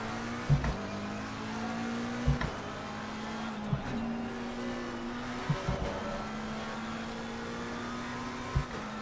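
A Porsche race car in Assetto Corsa Competizione pulls away from a race start at Silverstone, its engine droning steadily and climbing through gears with several sharp shift breaks and pops, under no talk.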